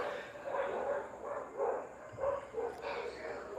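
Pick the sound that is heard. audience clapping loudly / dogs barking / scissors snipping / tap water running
dogs barking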